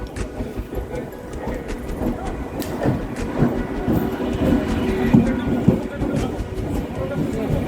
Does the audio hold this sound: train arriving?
yes